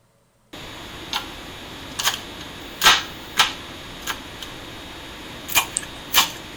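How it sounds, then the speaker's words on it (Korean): A knife chops food on a cutting board in a series of sharp, separate knocks at an uneven pace, some louder than others, close up over a quiet room hiss with no voices. "칼 써는 소리가 들리시죠?"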